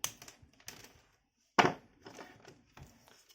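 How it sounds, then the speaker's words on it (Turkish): An electrical cable being cut by hand while building a 12-volt car test lamp from a ballpoint pen: a few close, dry clicks and one sharp, loud snip in the middle, then quieter crinkling handling noises, with no talking. "Bu kablomuzu göz kararı şuradan bir yerden kesiyorum."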